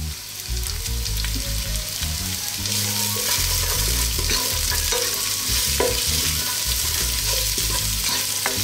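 Sliced onion sautéing in a pan for Filipino chicken pochero, a steady loud sizzle with frequent stirring and utensil scrapes throughout, no voices.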